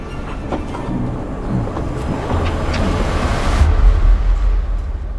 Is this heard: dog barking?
no